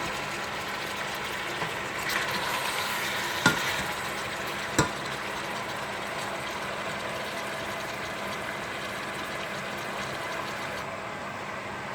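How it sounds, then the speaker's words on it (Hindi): Chicken fries in a pan with a steady, soft sizzle, and two faint sharp knocks sound partway through, with no voices. "तो अब इसको फ्राई करूँगी जब तक कि इसका कलर चेंज हो जाए"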